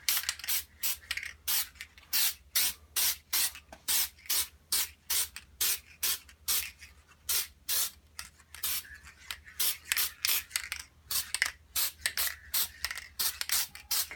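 Short rhythmic hisses of an aerosol spray paint can, bursts repeating in quick succession with brief gaps between them, fairly close.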